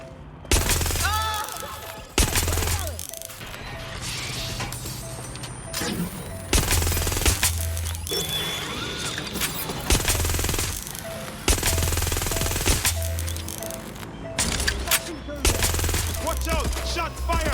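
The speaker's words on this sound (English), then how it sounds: "Watch out! Shot fire! Big mistake. Being shot at here! Open fire!" Gunfire in Watch Dogs: Legion crackles through a street mission as repeated bursts of automatic fire and single shots with booming impacts, loud and close amid chaotic game sounds.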